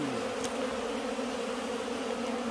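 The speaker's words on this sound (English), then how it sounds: "Bees." Bees buzzing in the hills of Jamaica, a dense, steady hum of many insects close by that holds without a break throughout.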